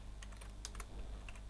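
Quick typing on a computer keyboard while working in a text editor, with a few scattered light key clicks at a low, quiet level, no voices.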